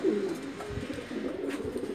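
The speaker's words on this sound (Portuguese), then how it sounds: "Vê esses pombos que vieram." Pigeons coo softly in a low, throaty, rolling murmur at a home pigeon loft in Belo Horizonte, Minas Gerais, close by and continuous.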